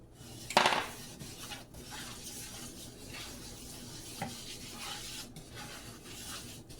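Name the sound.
roux being made and browned in a pan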